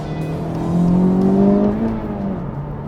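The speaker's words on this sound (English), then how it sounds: "Driving a Type-R never gets old." A 2024 Honda Civic Type-R hot hatch with a 6-speed manual transmission drives along, its engine note droning steadily and swelling briefly louder mid-way before settling back, heard from inside without talk.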